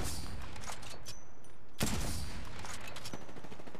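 Rapid bursts of automatic gunfire in the Apex Legends battle royale game, a dense fusillade with one sharp louder blast midway, carrying on steadily with no talking.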